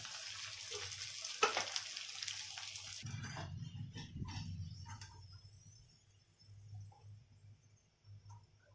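Sabudana vada fry in oil, a busy sizzle at first that drops to a softer, quieter bubbling with scattered small knocks and pauses, no talking.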